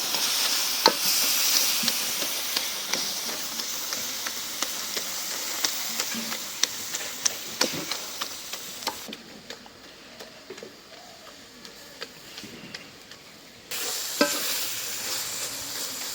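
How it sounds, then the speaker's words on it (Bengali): Baita greens with new potatoes being stirred and mashed in a sizzling pan, a steady frying hiss broken by repeated scraping and tapping strokes, close and continuous, with a brief drop in the sizzle partway through. "এখন শাকটারে ঘুটা দিব,"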